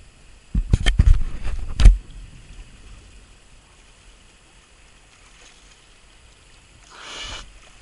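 A canoe runs down a canoe slide on the Aude river, with a cluster of loud, close splashing knocks and rushes early on, then a quiet stretch of faint water and a brief soft wash near the end.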